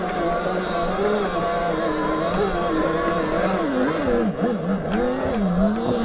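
Talaria XXX electric dirt bike rounding a bend in a drift, a steady motor whine rising and falling in pitch with continuous tyre and wind noise, close and loud throughout.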